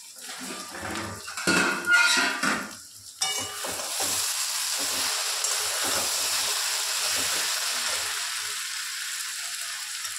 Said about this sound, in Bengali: এবার আমি এটা একটু ঢেকে দেবো, 2-4 মিনিটের জন্য ঢাকা থাকবে।